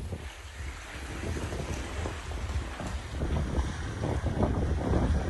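A sailboat crosses the Atlantic Ocean at sunset in big waves, heard as continuous roaring wind buffeting the microphone over rushing, surging water that swells louder toward the end, with no voices.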